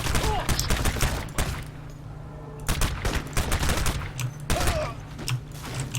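Rapid bursts of muffled, suppressed gunfire in the video game Crysis, in quick clusters with a short lull in between, dense and punchy over a low background hum.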